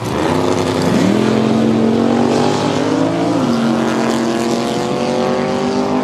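Race cars at the Interlake drag strip roar steadily and loudly, engine notes climbing and shifting in pitch over a constant, dense mechanical drone from start to finish.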